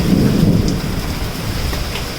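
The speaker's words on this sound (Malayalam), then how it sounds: "ഹെയിൽസ്റ്റോം" A hailstorm in Samha, Abu Dhabi: a heavy rumble of thunder at the start fades under dense, pelting rain or hail striking surfaces close by.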